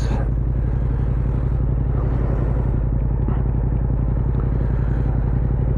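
A Yamaha R7 motorcycle engine drones steadily at close range while riding, with a low, even rumble and some mechanical clatter, running continuously throughout.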